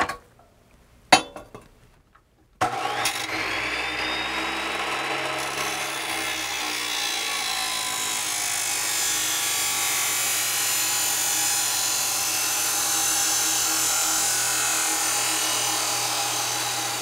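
A saw cuts thin-wall steel tubing in a garage workshop, a steady continuous rasping grind that runs loud and unbroken after a few brief knocks and clinks at the start.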